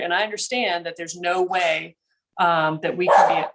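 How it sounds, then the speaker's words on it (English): A dog barks in the background during a committee meeting, with several yaps and bursts mixed under steady nearby speech from a participant who pauses briefly. "sorry about the dog"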